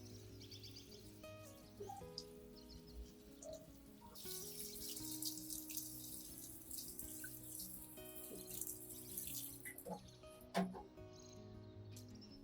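Plant roots, Zamioculcas tubers caked with soil, rinsed under a running tap: a steady gush of water with splashing and drips, faint birdsong in the background, quiet and close.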